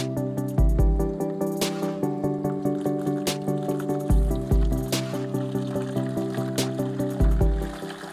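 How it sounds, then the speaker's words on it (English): Water gurgles and trickles through the radiator of an RA28 Celica fastback during a back flush, over a steady humming drone punctuated by a low thump every few seconds. "let's get the radiator back flushed."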